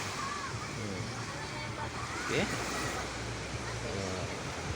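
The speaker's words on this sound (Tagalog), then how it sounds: "malaki yung" Ocean surf with big waves rushes steadily in the background at Lianga, Surigao del Sur, a soft, continuous wash of noise, while a voice talks quietly over it.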